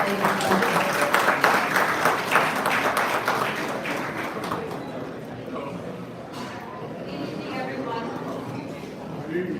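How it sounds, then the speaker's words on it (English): Applause at an awards gala, a dense patter of many hands clapping at full volume for a few seconds before thinning out beneath a voice speaking over a sound system. "Please give her a round of applause."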